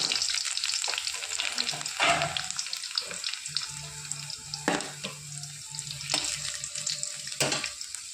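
Dry red chilli, panch phoron and crushed garlic frying in hot oil, giving a dense, bright, continuous crackling sizzle close by, with a few sharper spits and pops standing out over the hiss.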